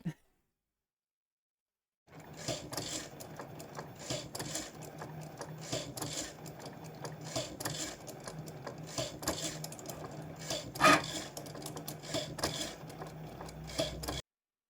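Electronic cutting machine slicing through paper in a craft studio, a busy run of quick mechanical clicks and motor whirs in uneven bursts, close and steady after a silent start.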